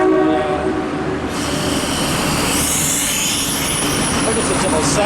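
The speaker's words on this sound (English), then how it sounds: "Here comes the 16:15. This will be the commuter to Drogheda." Commuter train to Drogheda arriving at a station in Ireland, loud and close, with a horn blast at the start, then rumbling wheels and rising brake and wheel squeal as it pulls in, a voice speaking over it.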